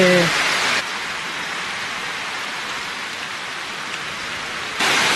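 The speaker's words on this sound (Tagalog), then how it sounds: "Ano na po, umuulan na." Steady heavy rain pours down continuously at a campsite in Tuba, Benguet, Philippines, a dense hiss of drops on surfaces, loud and close throughout.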